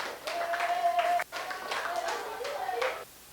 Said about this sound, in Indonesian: Boleh tepuk tangan buat semuanya.